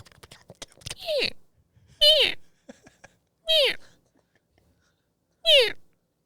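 A human voice imitates a marmot's call with four shrill, descending squeals spaced about a second apart, loud and close, separated by near silence and faint clicks.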